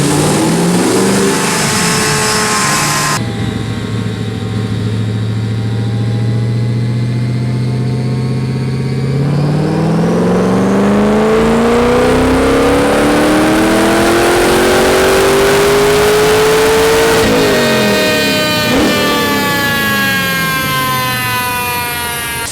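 An LS-swapped Mazda RX-7 FD on a dyno pull holds a loud steady drone, then the V8 climbs in a long sweeping rev to a high-pitched scream before backing off, very close and loud, with no talk.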